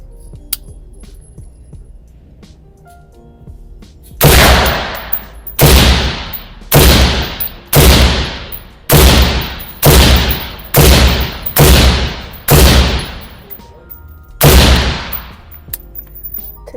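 About ten sharp rifle shots fired from a rifle with a Lancer magazine crack out loud and close, evenly spaced roughly a second apart after a few seconds of quiet, each leaving a short ringing tail.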